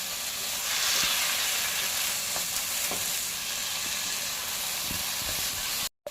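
A carrot sweet mixture cooks in a wok with a steady, dense sizzling hiss, broken by occasional scraping stir strokes. The sound is fairly loud and close and stops abruptly at the end.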